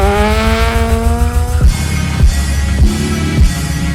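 A rally sprint stage at Makhata autodrome, with a car engine revving up through rising gear pulls and then shifting, loud and close, followed by more throttle bursts and gear changes with no talk.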